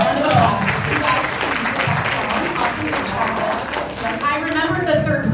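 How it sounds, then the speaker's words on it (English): Applause from a conference audience at a marketing summit, a steady clatter of clapping mixed with overlapping voices and chatter throughout. "Round of applause."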